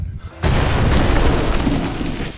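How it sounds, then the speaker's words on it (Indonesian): An explosion blasts through a bunker wall in an action film, starting with a sudden heavy boom after a brief quiet moment and rolling on as a loud, dense roar of debris and rumble. "Kang meledakkan salah satu dinding yang sudah mereka pasang bom sebelumnya"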